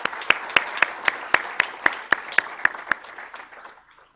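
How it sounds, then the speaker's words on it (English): A small audience at a Call for Code kickoff event claps for Persistent Systems, a dozen or so distinct, evenly spaced hand claps that thin out and fade to silence. "So big thank you, and a round of applause to Persistent as well."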